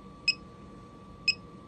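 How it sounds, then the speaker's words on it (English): Low voltage alarm on an ALFFAA 1500W pure sine wave solar power inverter running from a sagging battery, giving two short, sharp electronic beeps about a second apart over a steady hum. "That's the low voltage alarm kicking on."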